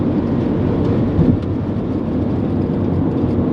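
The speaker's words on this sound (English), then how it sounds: "definitely road noise that we need to repair" Steady broadband road noise roars inside a car cruising on a freeway at 75 mph, a loud constant low rumble and wind wash with no talk.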